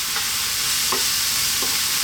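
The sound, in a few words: curry powder dropped into frying rice, stirred and sizzling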